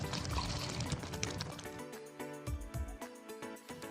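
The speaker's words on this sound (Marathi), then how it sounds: "पालकची भाजी शिजवून घेतलेलं पाणी आता मी त्यामध्ये ओतणार आहे।" Green water left from boiling spinach is poured into a pan for village-style palak paneer cooked on a wood-fired clay stove, a soft splashing pour heard close but quietly, with some clinking and tonal background sounds.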